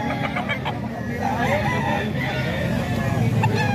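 A banded gamefowl rooster of the Golden Boy line crows at close range in San Jose del Monte, Bulacan, over a steady murmur of background noise, with faint voices around.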